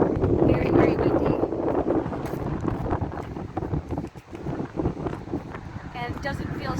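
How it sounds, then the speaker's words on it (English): Strong wind roars and thumps against the microphone, steady with gusting surges, and a person's voice is faintly audible beneath it. "man, is it windy here"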